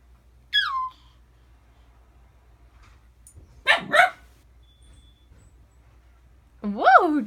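Dog barking indoors: three separate short yips and barks spaced a few seconds apart, close and fairly loud over a quiet room hum, with no talk.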